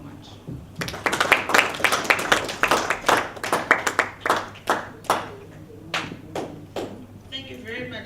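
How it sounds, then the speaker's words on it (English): At the IPM Convention 2018, the audience gives a speaker another round of applause, a burst of fairly close, uneven clapping that rises, holds, then tapers to scattered claps, with some talk mixed in. "Can we give her another round of applause?"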